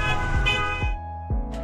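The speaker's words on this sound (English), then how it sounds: "a street shot with honking and engines" Car horns toot in a busy street scene with engines rumbling beneath, giving two or three short, loud honks in quick succession.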